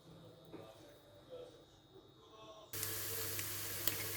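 Onions frying in a pan on an electric hotplate, a steady hiss that starts soft and swells into a loud, continuous sizzle partway through, with faint background sounds before it.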